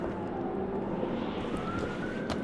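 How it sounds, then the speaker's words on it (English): A police siren wails faintly in the distance over a steady rumble of street noise, its pitch rising slowly. "if you can hear sirens again, that's on my street"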